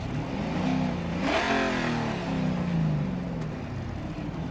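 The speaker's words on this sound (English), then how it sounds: "So car's a lot louder." A Holden V8 race car in GRID Autosport, heard from the cockpit view, revs up and then falls away in a steady engine drone that rises and sinks once, with no talk over it.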